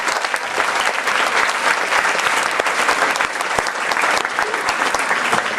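Sustained, dense applause from a big crowd at a parent-student symposium fills the space, loud and even throughout without any pause.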